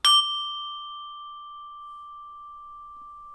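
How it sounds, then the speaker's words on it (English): Small brass singing bowl struck like a bell with a wooden beater: one clear, bright ding with a sharp attack, then a pure ringing tone that sustains and slowly fades over several seconds, alone and close. "I'll actually just use it for like a bell"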